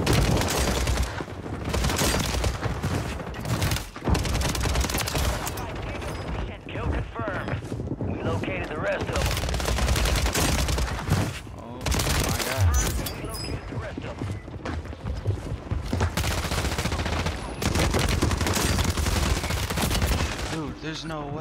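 Rapid bursts of Bullfrog submachine gun fire ring out in Call of Duty on Rebirth Island, loud and nearly continuous across the clip, layered with booms and other battle noise.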